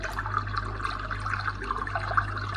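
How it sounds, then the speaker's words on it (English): Running water from an Aptoyu white noise night light's stream setting makes a continuous, quiet babbling trickle with small gurgles, alone over a faint low hum. "Water stream"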